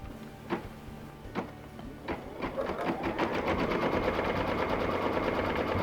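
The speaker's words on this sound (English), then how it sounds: "the first stitch is going to be the placement stitch for the outside of the bag" An embroidery machine stitching a placement line in white thread on a quilted zippered bag over tearaway stabilizer starts with a few separate clacks, then settles into a fast, steady mechanical rattle, close and moderately loud.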